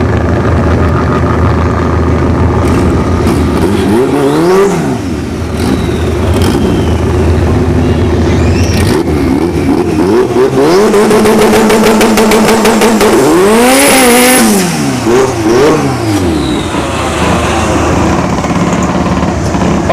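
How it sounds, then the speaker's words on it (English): A Honda Civic drag car with a turbocharged B20 engine at a drag strip, loud and close, revving hard with repeated rising and falling engine sweeps, a sharp high-pitched burst near the middle, then settling to a steady drone. "Oh, this is the B20 Turbo."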